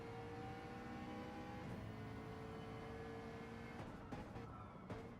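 Onboard engine of a McLaren race car lapping Suzuka Circuit in a racing video game, a steady faint hum with shifting tone and a couple of brief gear-change blips.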